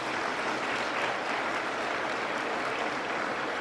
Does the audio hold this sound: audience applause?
yes